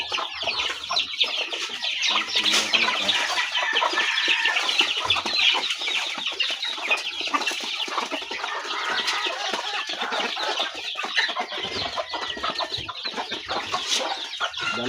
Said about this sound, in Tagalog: Yan, mga sisiyo pa din. Dami. Meron pa doon. Meron pa dito sa kulungan.